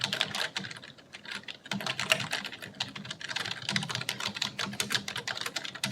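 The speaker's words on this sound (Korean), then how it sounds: "정답은 키보드 소리였죠." Computer keyboard typing, a steady run of rapid clicking keystrokes heard alone and fairly close for several seconds, played as a listening quiz about how blind people perceive the world.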